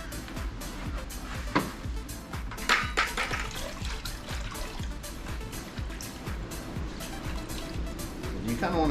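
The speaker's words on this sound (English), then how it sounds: "You kind of want to wring them out a little bit, just so they're not totally dripping wet, but still pretty damp." Wet microfibre towels are wrung out by hand for a rinseless car wash, giving close, repeated splashes and trickles of water dripping into a bucket.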